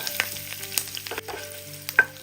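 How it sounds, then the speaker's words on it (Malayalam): Curry leaves and asafoetida crackle and spit in hot oil as a tempering for sambar, short sizzling bursts mixed with stirring scrapes over about two seconds, close and fairly loud. "കറിവേപ്പില ഇട്ട് കൊടുക്കുക. ഒന്ന് ഇളക്കി കൊടുക്കുക."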